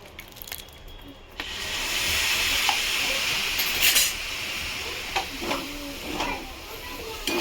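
A little water goes into oats cooking in a hot pan, setting off a sudden loud hiss that holds as a steady sizzle, with a few light clinks and knocks of a utensil near the end.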